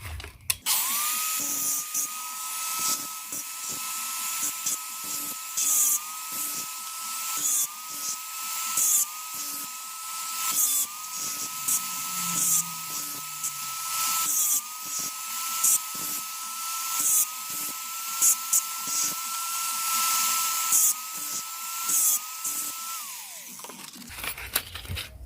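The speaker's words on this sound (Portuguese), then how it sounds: "É só pegar a lixadeira aqui" A high, steady electric whine from a small power sander runs continuously for over twenty seconds, with scraping and rattling bursts as it grinds down metal pyrography pen tips.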